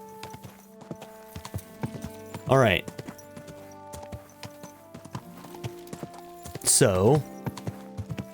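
Horse hooves clip-clop steadily in Kingdom Come: Deliverance II, with two loud whinnies or snorting bursts breaking through. Someone talks briefly over the hoofbeats.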